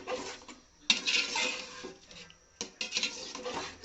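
Mashed potato aloo ghati is stirred and sautéed in a pan, with a utensil scraping and knocking on metal in a few distinct bursts over a faint sizzle, close up and with no voices.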